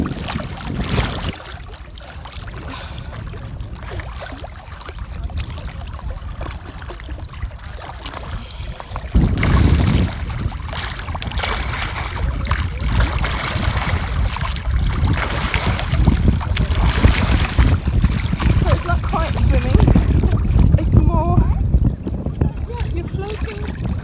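Wind gusting loudly across a microphone while someone floats in a salt lake at Sal, with a constant roaring buffeting that strengthens midway, and a person talking over it.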